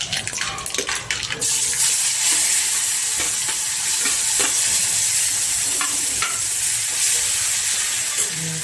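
Asafoetida, turmeric and chopped tomatoes hit hot oil in a frying pan, setting off a loud, steady hiss of sizzling with occasional stirring scrapes, close and without talk.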